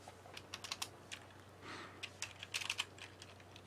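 Typing on a computer keyboard, a scattered run of light key clicks with brief pauses, fairly close, over a low steady hum.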